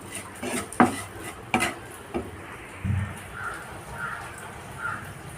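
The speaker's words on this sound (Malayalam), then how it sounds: "ഇനി ഇതിലേക്ക് മത്തങ്ങ ഇട്ട് കൊടുക്കാം" Pumpkin pieces drop into a pickle mixture and a spoon stirs them, giving a few distinct clinks and knocks against the pot followed by softer scraping and shuffling, close and fairly quiet.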